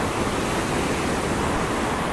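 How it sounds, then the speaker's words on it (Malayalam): Rushing water from a waterfall pours in a close, loud, unbroken roar, with no voices over it. "ഇതാണ് ഞാൻ പറഞ്ഞ വെള്ളച്ചാട്ടം"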